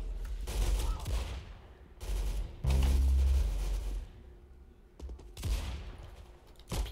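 Rapid bursts of gunfire from the Roblox game Arsenal, loud and close in several clustered volleys with brief gaps between, with no talking.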